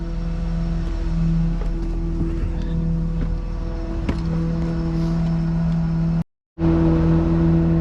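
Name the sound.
mini excavator throwing dirt under septic tank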